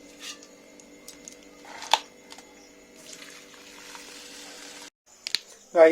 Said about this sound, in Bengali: এই চালটাকে আমি 2 থেকে 3 বার ধুবো